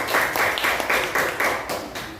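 Classmates clapping in a classroom, a loud, close burst of hand claps falling into a rough rhythmic pattern of repeated pulses for about two seconds.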